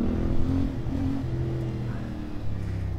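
A CFMoto 450MT twin-cylinder motorcycle engine runs with a steady, close, low throbbing drone that holds an even pitch throughout.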